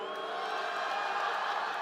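Graduates at a John Jay College commencement let out a brief crowd reaction of whoops and cheers, a steady wash of many voices held at a moderate level.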